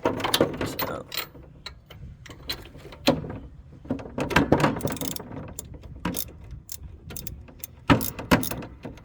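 Ratchet with an extension bar clicks and grinds in irregular bursts on a Briggs and Stratton 17HP OHV engine of a John Deere L100 riding mower during valve adjustment, close and moderately loud, with no talking.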